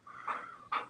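A goofy pet dog panting close by, two quick breathy bursts of rapid, raspy breaths over about a second, with no other sound around them.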